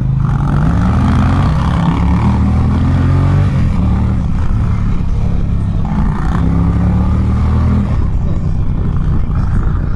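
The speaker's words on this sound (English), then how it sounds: "I really like the little part throttle braps here. Sounds great." An Indian Challenger motorcycle engine revs loud and close in short part-throttle braps, rising and falling in pitch over a steady engine roar with wind noise throughout.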